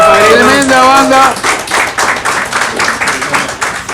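Clapping for a metal band at Rec Metal Bar, close and loud, following a brief voice at the start, then settling into a steady run of sharp, evenly spaced claps.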